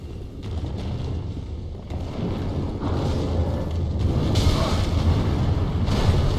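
A gargoyle in Dark Souls 3 shoots fire from its weapon, producing a sustained roaring, booming whoosh that swells louder over several seconds with rumbling bursts, with no talk.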